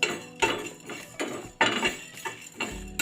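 Whole spices and coriander seeds being stirred as they roast in a pan, heard as repeated dry scraping and clinking strokes of a spoon against metal, roughly one every half second, close and fairly quiet.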